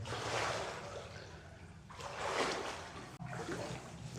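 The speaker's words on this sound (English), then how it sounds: "You can hear the water." Water splashes and sloshes steadily as someone wades thigh-deep on North Brother Island, continuous churning close to the microphone with brief pauses between strides.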